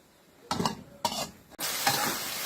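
Lotus stems being stir-fried with pork in a pan, giving a steady wet sizzle broken by two brief bursts of stirring and scraping, then a louder, continuous frying hiss close by, with no talk.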